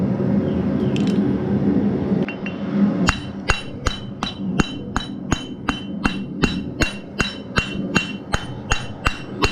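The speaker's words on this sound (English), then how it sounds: "Notice I'm just hammering in the same spot." Rapid regular hammer blows ringing on metal as a horseshoe is peened with a rounded chisel, close and loud, a steady rhythm of sharp strikes in the same spot after a few quieter taps.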